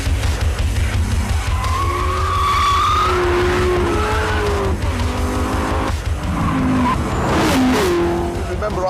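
A Corvette ZR1 skids around a difficult race track, its tires squealing in long wavering whines over a loud, steady engine roar, with a sharper burst of squeal near the end.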